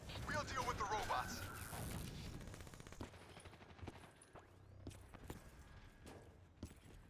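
Call of Duty Black Ops III cover fire: sharp, scattered gunshots and short bursts crack out, loudest early and then sparser, mixed with game noise and voices speaking over the shooting.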